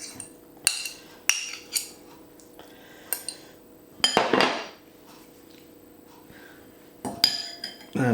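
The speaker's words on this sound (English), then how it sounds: "now I'll mix that in with the cream cheese" A spoon mixes a squeezed filling into cream cheese in a bowl, giving irregular scraping clinks and knocks against the dish, spaced with short pauses and a longer scraping burst midway.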